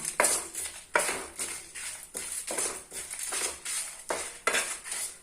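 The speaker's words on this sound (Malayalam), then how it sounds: "നമ്മളിപ്പോൾ ഫ്ലെയിം ഓഫാക്കി വെച്ചുകൊണ്ടാണ് നമ്മളിപ്പോൾ ഇത് ഇളക്കി കൊടുക്കുന്നത്" A utensil stirs coriander powder and spices in a pan with the flame off while making peri peri Alfaham chicken, producing repeated close scraping and clinking strokes in a steady rhythm, with no talk.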